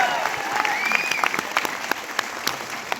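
An audience claps steadily throughout, dense crackling applause with a few sharper near claps, while a voice talks over it at the start.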